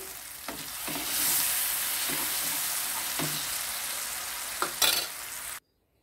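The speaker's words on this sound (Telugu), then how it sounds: "చిటికెడు పసుపు, ఇంగువ పౌడర్, గోంగూర వేసుకొని కలుపుకోవాలి" Gongura leaves with turmeric and asafoetida being stirred in a hot pan for pachadi, a steady sizzle with several distinct scrapes of the spoon against the pan before the sound cuts off.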